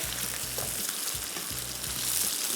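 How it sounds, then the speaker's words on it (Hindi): Chicken pieces fry steadily in a pot over high heat for a curry, giving a continuous loud sizzle with soft periodic scraping and stirring sounds beneath it. "तो इसको थोड़ा सा करते जाएंगे फ्राई"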